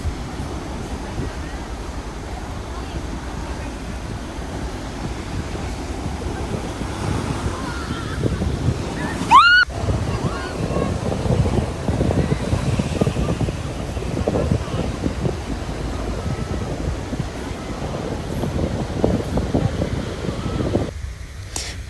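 Sea waves wash onto the beach at Pantai Wohkudu, a steady broadband roar of surf mixed with wind buffeting the microphone, with a brief voice and some movement partway through.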